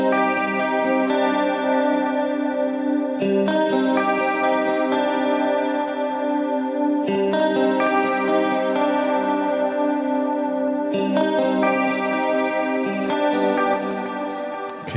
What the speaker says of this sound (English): Waves H delay, which gives me a stereo ping pong in quarter notes, which is slightly modulated